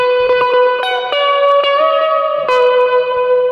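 An electric guitar plays picked notes and ringing chords through a Tube Screamer overdrive with a mildly overdriven, slightly gritty tone with reverb, steady and fairly loud.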